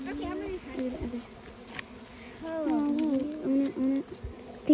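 A swarm of bees moves into a bait hive, a dense buzzing drone that rises and wavers close by, while people talk over it.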